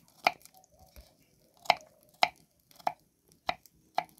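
A knife chops garlic cloves on a small cutting board, six sharp, distinct taps spaced about half a second apart, close and clear in a quiet kitchen, no speech.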